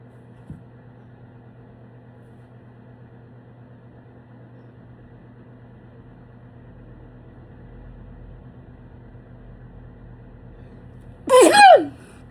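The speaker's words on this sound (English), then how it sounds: "my sneezes come super quick and I don't even see it coming" A single abrupt sneeze bursts out near the end, loud and close, after a long stretch of quiet room hum.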